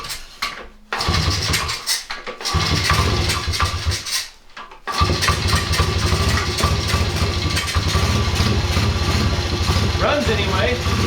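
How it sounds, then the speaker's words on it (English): A Honda CRF50 small dirt bike engine turns over after brief cranking bursts and settles into a steady, loud buzzing idle close by, with a couple of short pauses early before it catches and runs continuously. "Now if we start up the motorcycle, turn on the switch, maybe it'll work."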